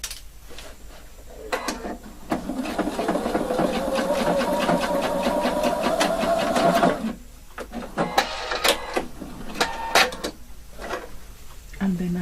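A sewing machine hums in one continuous run of about five seconds, topstitching a tailored shirt collar with a stand close up. Scattered clicks and handling noises come before and after it.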